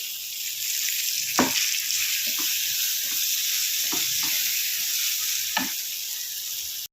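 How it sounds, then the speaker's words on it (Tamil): Spiced mixture with sambar powder and curry leaves sautéing in a hot pan, a loud continuous sizzle broken by several scraping stirs of a spoon, with no one speaking. "இப்போ இது எல்லாத்தையும் சேர்த்து நல்லா வதக்கிக்கலாம் இதில் கருவேப்பிலை சேர்த்துடுறேன்"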